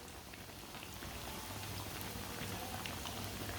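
A sandwich frying in oil in a pan, giving a steady, soft crackling sizzle that holds evenly throughout with faint pops.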